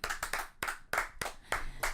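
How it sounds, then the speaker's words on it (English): A small group of people clap in several short, uneven bursts with brief pauses between, close by and fairly quiet in an indoor podcast setting. "Can we get a clap?"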